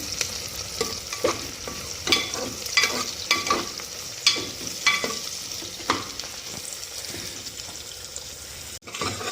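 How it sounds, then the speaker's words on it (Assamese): Onions frying over low heat in a pan, a steady soft sizzle broken by regular scraping stirs roughly every second, close and moderately loud with no talk. "পিঁয়াজটো কম জুইত ভাজিলে তেতিয়া সিজিব পিঁয়াজটো"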